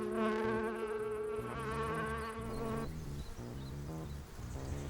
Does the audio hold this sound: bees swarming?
yes